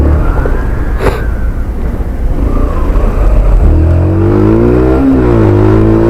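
Road traffic around a 2010 Yamaha YBR 125 motorcycle riding in Leyton: a loud, continuous rumble of engines with wind noise, then a vehicle revving up with rising and falling tones, with no talking.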